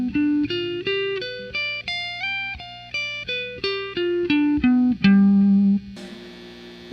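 Guitar picking an A-shape dominant 7th arpeggio, a steady run of about fourteen single notes climbing and then descending, each ringing clearly and close with no talk, ending on a sustained low note before a brief noisy rustle.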